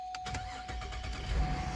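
A 2011 Cadillac STS engine cranks and fires into a running idle, with rapid starter pulses early and a steady low rumble swelling near the end, close and fairly loud, with no talking.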